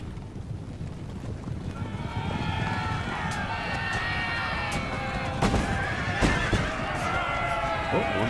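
Horses whinny in the Empire: Total War battle, several shrill neighs rising over a dense rumble of galloping hooves and battle noise, with sharp cracks breaking through the steady din.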